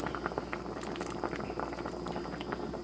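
Pulmuone doenjang stew ramen boils steadily in a pot on a stovetop, a continuous dense bubbling and popping patter with no talk.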